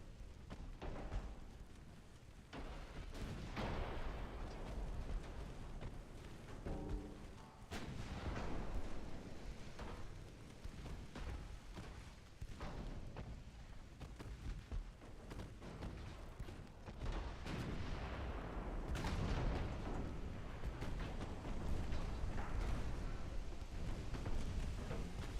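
Warship secondary guns firing repeatedly in a naval campaign game, a dense run of booming blasts and rumbling impacts layered over continuous battle noise for the whole stretch.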